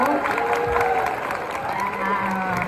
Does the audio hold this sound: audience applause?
yes